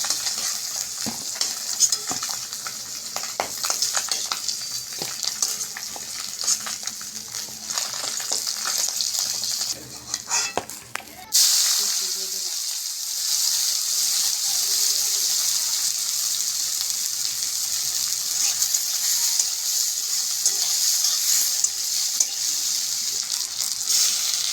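Fish sizzles and fries in a pan, a steady hiss running throughout, with clinks and scraping of a utensil in the first half before the frying continues alone.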